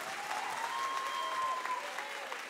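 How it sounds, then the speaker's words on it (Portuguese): A church congregation claps loudly and continuously, dense applause filling the room with a few faint voices mixed in. "Você pode dar um aplauso ao Senhor? Você pode aplaudir mais forte?"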